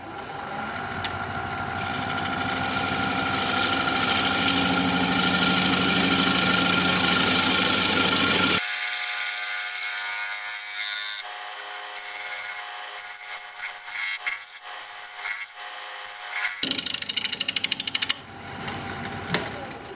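A wood lathe turns a piece of wood while a tool cleans up the cuts, giving a loud, sustained grinding whir that drops away abruptly midway, followed by scattered scrapes and another short loud burst.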